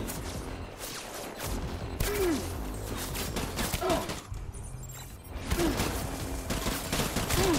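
Rapid bursts of gunfire from a bullet gun in Death Stranding, crackling shots in clusters over a steady game background, with a few short bright swooping tones between bursts.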